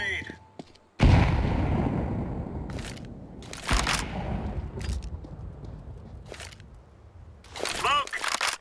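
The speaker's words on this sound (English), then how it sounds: "Throwing a grenade." A grenade thrown in Counter-Strike 2 on Dust 2, a loud close burst followed by a long rumbling roar and a few more sharp bangs, with a voice talking over it.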